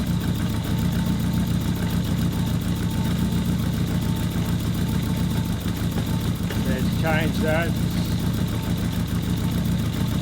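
Engine idling steadily while carburettor fuel screws are being set, a constant mid-to-low rumble throughout, with someone speaking briefly partway through.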